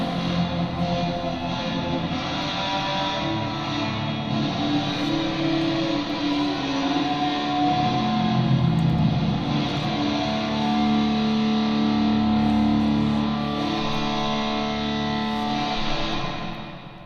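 A Guitar Hall reverb effect from Airwindows fills the space with a big, loud, sustained wash of processed sound, dense and steady for most of the stretch before tapering off at the end, with no talking.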